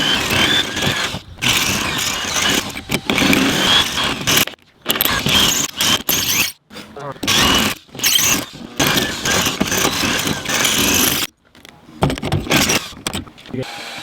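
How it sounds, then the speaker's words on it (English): A high-speed bit drills into the metal of a 2015 Jeep JK in repeated loud bursts broken by short silent pauses, a close, harsh whine. "I just made a switch to a high-speed drill bit"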